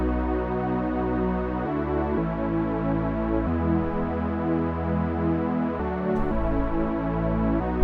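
Sustained synthesizer chords from an FL Studio remix of the GTA 6 trailer theme hold and shift every second or so, a smooth, continuous pad of tones at an even volume with no talking.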